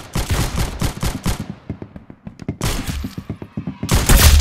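Rapid gunfire from the Roblox game Arsenal rattles in dense bursts: a long volley, a gap of scattered single shots, then another sustained burst, all loud and close.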